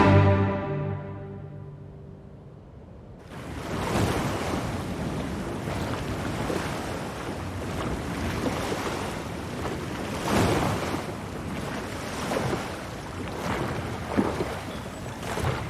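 Ocean waves wash and surge continuously in a film scene of people boating at sea, with wind rushing over the water after a brief musical opening.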